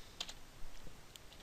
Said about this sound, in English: Then I will go ahead and type in